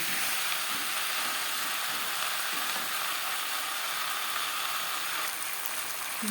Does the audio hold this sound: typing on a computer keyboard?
no